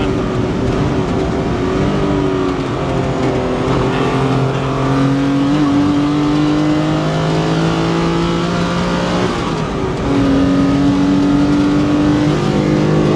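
The Alfa Busso engine in a Lancia Stratos on a race track sounds loud and close, revving hard and rising in pitch. Clear upshifts break the note around the middle and again near the end.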